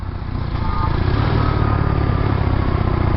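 A motorcycle rides along a road in Vietnam heading north toward Phong Nha-Ke Bang National Park, its engine a loud, steady drone with wind rumble, rising slightly after the first half second and holding constant.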